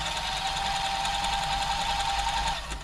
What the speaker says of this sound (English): I'll put it onto a stretch stitch.